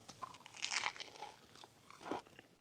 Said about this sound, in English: Can you hear that crunch?